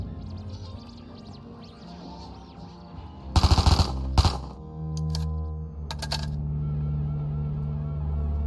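A couple of short, loud gun bursts in a Call of Duty: Black Ops 3 zombies custom map, rising out of a low droning music bed with a few fainter metallic clicks afterward.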